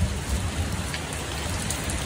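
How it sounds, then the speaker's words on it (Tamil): Heavy continuous rain pours down during a power cut with floodwater in the streets, a loud, even, unbroken hiss with no voices. "கண்டினியூஸாக பெஞ்சிட்ருக்கு நிற்காமல்."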